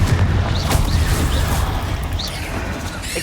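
A Confringo blast spell in Hogwarts Legacy, a heavy booming crash layered with rumbling, crackling debris and brief chirping effects, sustained and close without any voices.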